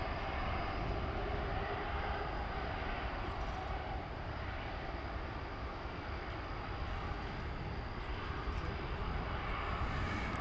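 Qantas Flight 8 airliner at DFW airport, a steady broadband engine roar that holds level and fairly loud throughout with no voices.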